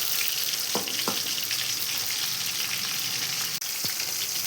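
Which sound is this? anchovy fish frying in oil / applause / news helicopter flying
anchovy fish frying in oil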